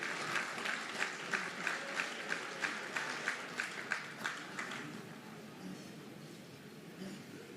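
Audience applause at a senior officials' performance contracts signing ceremony, dense crowd clapping with a few rhythmic accented claps, fading gradually toward the end.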